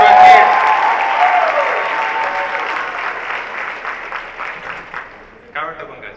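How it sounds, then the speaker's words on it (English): Applause and cheering for children at a youth fashion show, beginning under an announcer's voice and tapering off gradually before speech resumes at the end. "Please give a big round of applause for our kids."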